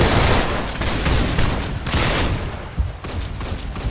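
Loud, dense bursts of gunfire from the video game Arsenal, rapid overlapping shots running almost continuously for a few seconds.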